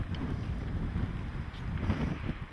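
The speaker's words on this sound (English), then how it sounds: "It's a bit windy, I know." Steady gusting wind buffets the microphone outdoors, a low continuous rumble with no voices.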